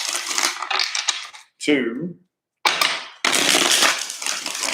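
Tarot cards are shuffled in bursts of crisp riffling and flicking, loud and close, with short silent gaps between the shuffles and a voice speaking briefly.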